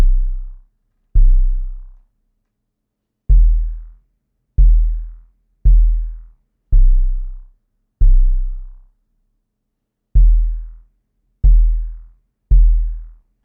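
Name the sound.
808 bass sample called Banquet from 2K stash kit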